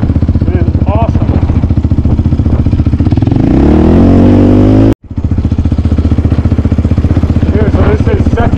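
A 2014 Yamaha Raptor 700R ATV with a 50-inch width cruising in second gear on dirt, its loud, steady close engine drone pulsing throughout, briefly cutting out near the end before resuming.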